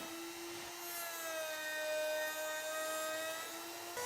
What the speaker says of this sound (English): Now I'm going to chamfer the bottom ends of the legs to keep this end grain from splintering